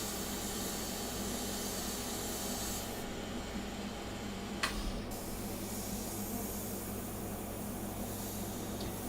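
Steady, close airbrush hiss sprays India ink for a fine art portrait, continuous and even throughout with a brief break in the middle.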